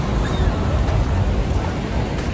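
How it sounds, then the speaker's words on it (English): Surf rolling onto Los Enamorados beach in Chile, a steady loud wash of breaking waves with wind buffeting the microphone throughout. "So here on the beach, guys."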